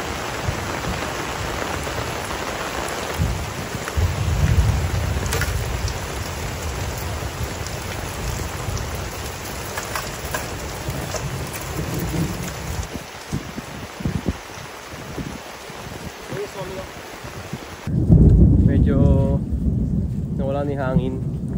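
Heavy rain pours during a storm at a beach campsite in Batangas, a steady dense wash with gusty surges. The downpour runs alone for most of the stretch, and a voice joins near the end.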